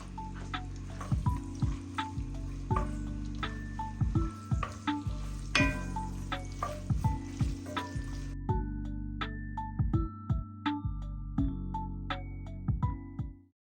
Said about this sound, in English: Once the oil is hot, we'll go in with my sliced onion and fry it until it is nice and translucent.